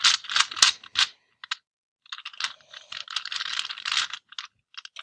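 A loose, loud puzzle cube is twisted in quick bursts of sharp clicking turns, with a pause midway before a longer run of rapid clattering moves, close up and fairly quiet overall.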